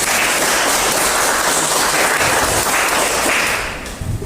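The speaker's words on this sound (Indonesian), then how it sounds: "saya minta kita semua untuk tepuk tangan atas karya ketika proses." Audience in a classroom or hall applauding, loud dense clapping throughout that thins and tapers off near the end.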